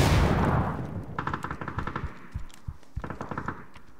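Rapid automatic gunfire in a first-person shooter game, several short bursts of shots after a loud opening blast, fairly close and crisp with no talk over them.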